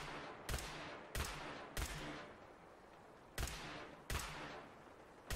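Sniper-barrel rifle shots in the video game Fallout: five sharp, booming reports spaced roughly a second apart, each with a decaying tail over a quiet background.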